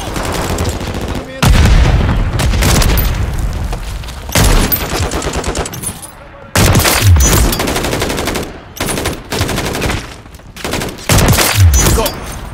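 Call of Duty gunfights with loud, sustained machine gun bursts: rapid rattling volleys that start and stop abruptly several times, separated by brief gaps.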